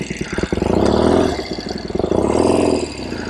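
A 1970 Royal Enfield Interceptor 750 Mk II motorcycle revs twice, each rise swelling to a loud, throbbing mid-pitched roar and falling back again. The engine sounds close, and no voices are heard.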